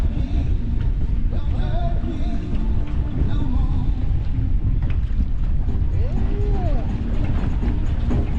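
Wind buffets a fishing boat on a rough day, a loud continuous rumble across the whole stretch, with faint voices in the background.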